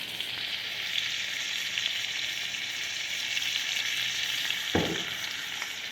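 Lamb rib chops fry in a pan with a steady, close crackling sizzle and a single brief knock partway through.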